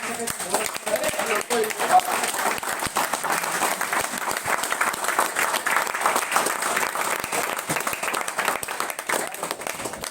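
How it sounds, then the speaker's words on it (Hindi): Audience at an insurance business seminar in India clapping vigorously, a dense, sustained burst of applause with sharp individual claps standing out, and a voice briefly heard at the start. "तो मैं चाहूंगा कि एक बार जोरदार तालियां और खड़े"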